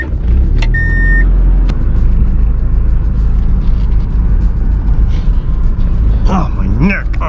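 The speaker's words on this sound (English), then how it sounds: "Turn the car on." A parked car's engine idles as a steady low rumble after being started, close and continuous, with a brief voice near the end.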